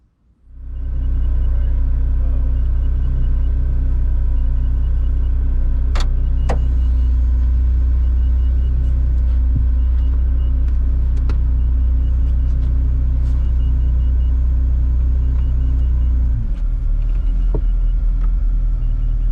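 A Ferrari F40 engine idles steadily with a deep, loud rumble, settling into a smooth low drone as it warms up, with a couple of brief clicks partway through.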